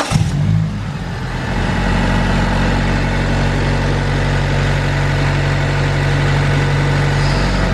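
A Mitsubishi Lancer engine with an upgraded Walbro fuel pump cranks and catches, then settles into a steady, loud idle with a low constant rumble and hum, close by and with no talking.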